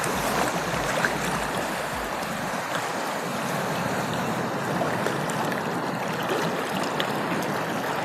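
A strong water current washes around someone wading at Kappil Beach in Kollam, where backwater meets the sea, making a constant rushing, churning wash that stays close and even throughout.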